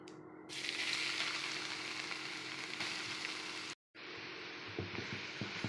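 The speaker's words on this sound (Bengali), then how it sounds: "ঘিয়ের সঙ্গে ভালো করে লাউটা ভেজে নেব" Grated bottle gourd fries in ghee in a hot pan, giving a steady, close sizzle with faint scraping, cut by a brief silent gap near the end before the frying resumes.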